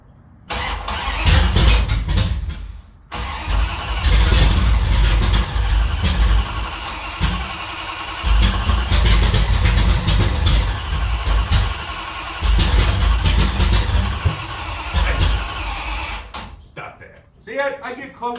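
A Mopar W2 340 V8 car engine cranks, fires up with a loud roar and settles into a lumpy, rumbling idle with brief rises in revs, close by, with people talking over it.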